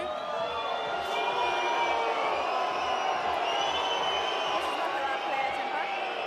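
A crowd at a women's Six Nations rugby match between France and Ireland sends up a sustained roar with whoops and shouts, broad and distant-sounding, with a commentator talking over it.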